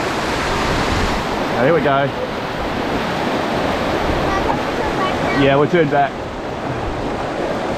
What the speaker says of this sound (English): look how fast the river is